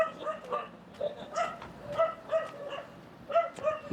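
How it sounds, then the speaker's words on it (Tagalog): Several dogs bark repeatedly at a moderate distance, sharp overlapping yaps in irregular bursts with a few higher yips mixed in. "Daming asong tumatahol."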